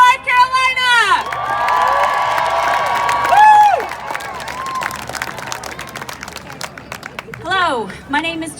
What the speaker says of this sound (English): join me in a rousing round of applause for Jessica Hulick with Equality, North Caro